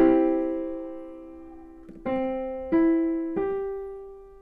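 A piano plays a long sustained chord for a music dictation exercise, then three single notes struck in steady succession, each ringing clearly and fading, with no talk.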